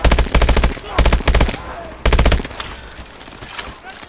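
Burst-fire rifle gunfire in Call of Duty: Advanced Warfare, with three loud, rapid bursts about a second apart followed by quieter distant shots and game ambience.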